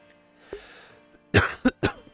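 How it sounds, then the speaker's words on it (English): A single person coughing, a few harsh close coughs in quick succession preceded by a faint throat noise, loud against an otherwise quiet background. "Excuse me. Cough, though."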